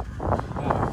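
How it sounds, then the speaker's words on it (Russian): Strong wind roars and buffets a microphone in a steady, rumbling gust, loud and close, with no voices, at an airfield during snow showers and low cloud. "прям сильно дует"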